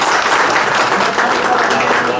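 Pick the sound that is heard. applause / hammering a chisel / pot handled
applause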